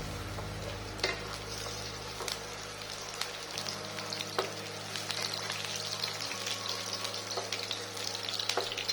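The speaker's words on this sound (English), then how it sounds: "Brown the garlic slightly" Roughly chopped garlic browning in about three tablespoons of oil in a pan, a steady, bright sizzle and crackle with a low hum underneath, continuous and close throughout.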